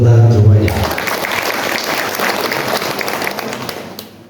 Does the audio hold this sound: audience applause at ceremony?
yes